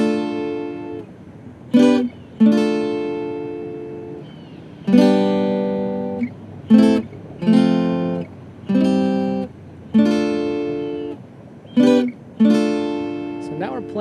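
Guitar plays the chorus chord progression of a song as four-note chord groups on the upper strings, each chord struck and left ringing with short gaps between, close and clear with no talking.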